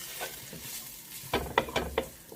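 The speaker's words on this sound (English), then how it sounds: "Just fry this, you know, so the spices get properly cooked" Spiced rice mixture for nasi goreng fries in a pan. A soft sizzle comes first, then a quick run of close, sharp stirring scrapes near the end. No voices.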